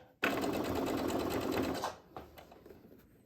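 Sewing machine stitching a hand towel: a loud, steady mechanical whir running for nearly two seconds, then stopping, followed by a few light clicks and handling sounds.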